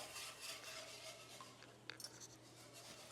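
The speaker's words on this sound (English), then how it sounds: "I'm constantly whisking here." A whisk scraping and stirring a sauce in a pan over high heat, a steady soft metallic rasp with a few sharper clinks near the end, fairly quiet and without talk.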